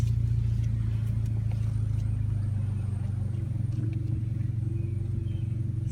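A car idles and rumbles close by in a small, tight campus parking lot, with a steady low engine drone that eases slightly partway through.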